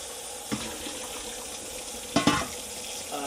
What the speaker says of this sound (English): like any other dish I pull out of the cupboard, I like to give it a quick rinse so there's no foreign materials